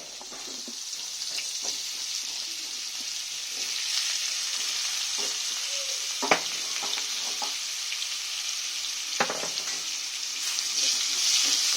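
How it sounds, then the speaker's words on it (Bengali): Pieces of papaya sizzle and fry in oil in a pan on a home stove, a steady close hiss with occasional clinks and scrapes of stirring throughout. "এবার আমি পেঁপেটাও ভেজে নিব।"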